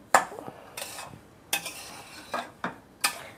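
Metal spoon scraping and stirring roasted rava semolina in a pan with ghee, cardamom and salt, heat switched off, giving about seven distinct scraping strokes in an uneven rhythm, close and fairly quiet.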